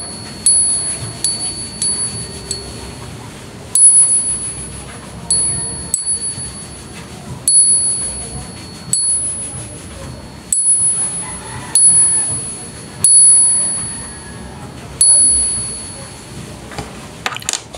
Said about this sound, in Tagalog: Ayan po ang tunog ng genuine na silver USPI. No, para siyang bell